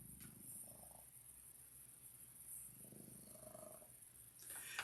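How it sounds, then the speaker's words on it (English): A cat purrs softly and close by, a faint continuous rumble in a quiet room with a steady high whine in the background and a couple of small shuffling noises. "Can you hear him purring away?"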